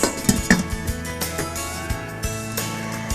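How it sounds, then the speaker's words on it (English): A lid clanks onto a metal curry pot of chickpea and butternut curry, a few sharp clinks and taps with small rattles, close and fairly loud, then a fading ring. "we're now going to close this lid again, and we're going to let it cook for another 5 minutes"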